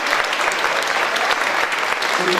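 Audience at the FLIM 2017 literary festival breaking into steady, dense applause, many hands clapping continuously at close range with a few voices mixed in.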